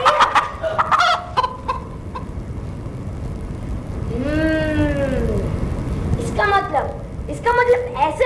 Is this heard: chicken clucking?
yes